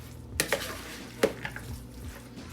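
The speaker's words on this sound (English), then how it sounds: "About halfway through, you need to go in and stir this" Spoon scraping and clinking against a pan while food is stirred midway through cooking, a few sharp metallic knocks over a soft low background, close and fairly quiet.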